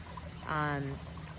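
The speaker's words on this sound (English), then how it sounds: "We have the waterfall, which is just so nice. We can hear it from our bedroom." A backyard koi pond waterfall trickles in a steady, soft wash of falling water throughout, with a brief voice-like tone rising over it midway.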